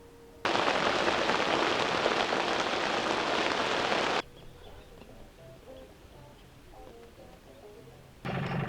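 Rain pours down near a boat anchored in a Newfoundland bay, a loud hiss that lasts several seconds, breaks off into a quieter stretch with faint drips and birds, and then comes back.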